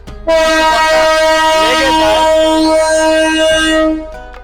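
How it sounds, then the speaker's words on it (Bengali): The Nasirabad Express, a small train in Bangladesh, sounds a long steady horn blast as it starts its journey, loud and close, lasting several seconds before fading. "এই জন্য আপনারা দেখতে পাচ্ছেন এখন ট্রেনটা যাত্রা শুরু করেছে"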